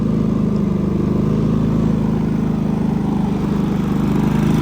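A portable gasoline power generator running on Sta-bil treated fuel holds a loud, steady idle close by, its small engine putting out an even, rapid, throbbing drone with no pauses.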